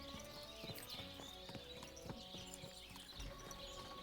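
Horse hooves clip-clopping at a steady walking rhythm in the Kingdom Come: Deliverance II video game, faint and regular with light ambient background.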